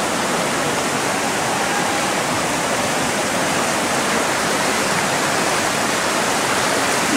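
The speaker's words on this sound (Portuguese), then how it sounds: "Agora a gente veio aqui na Cachoeira dos Pretos." Waterfall at Cachoeira dos Pretos in Joanópolis, a loud, unbroken roar of falling water filling the whole clip without pause or voices.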